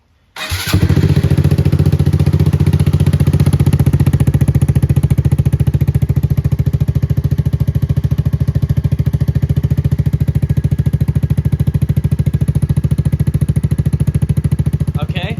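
A Honda Grom motorcycle fitted with an aftermarket Amazon exhaust, silencer installed, fires up and settles into a steady, close, loud idle with a rapid, even thumping pulse that continues unbroken.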